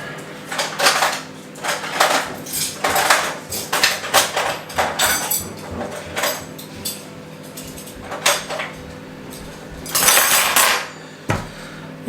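Metal cutlery is set down on a family dinner table, a long run of close clinks and clatters in uneven bursts, with louder knocks near the end and no talk.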